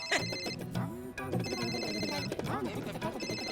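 A telephone's loud call-waiting ring sounds in repeated electronic bursts, with someone talking over and between the rings.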